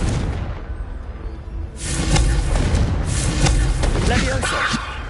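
Confringo blasting spell going off in Hogwarts Legacy, a burst of booming, rumbling impacts that swells after a quieter opening and stays loud and dense to the end, with a voice heard in the mix.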